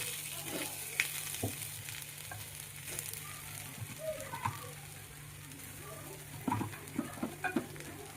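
Puran, a sweet lentil filling, cooks with ghee in a kadhai for holi puran poli, giving a soft low sizzle with scattered scraping stir clicks and a few louder clusters near the end, under a steady low hum.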